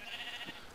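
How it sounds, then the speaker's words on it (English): A sheep in Minecraft gives one short, faint bleat, alone with no talk over it. "Shut up, sheep."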